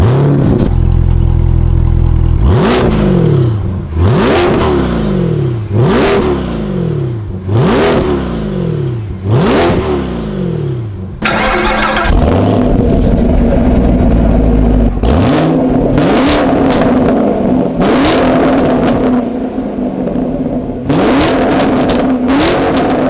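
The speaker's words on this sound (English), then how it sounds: "the aggressive, vile, and phenomenal sound that you get out of that Camaro's exhaust" A Camaro 2SS 1LE V8 exhaust revs hard again and again, each loud blip rising and dropping back to a rumbling idle, close and powerful throughout.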